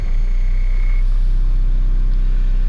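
A 2013 Case 590SN 4x4 backhoe loader's diesel engine cranks and settles into a steady, loud low rumble, with a brief high warning tone at the start.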